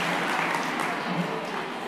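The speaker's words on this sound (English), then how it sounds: "Let's give Trey a round of applause." Audience applause at a university Towers event, greeting a musician after his performance; a short, steady wash of clapping fills the room at close range, with a voice faintly mixed in.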